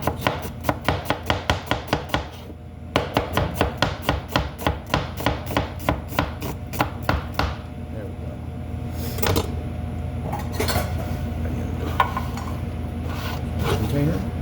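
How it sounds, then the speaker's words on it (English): A knife chops vegetables into a short julienne on a cutting board, with quick, even, close strokes for several seconds that then give way to quieter, scattered handling and scraping. "I want to cut it in half because I want a short julienne."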